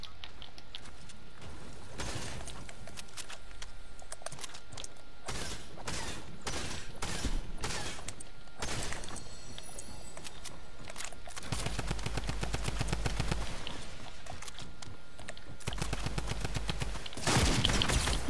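Rapid automatic rifle bursts and heavy shotgun blasts from a SCAR and a pump shotgun in Fortnite, firing in repeated loud volleys over the whole stretch with only short gaps.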